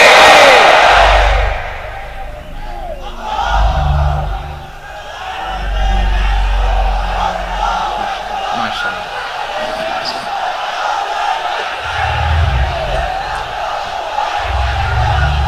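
Congregation at an Islamic waz sermon gathering loudly chanting the takbir in response, a large crowd's voices rising in repeated swelling shouts, roaring and reverberant, with some lulls between chants.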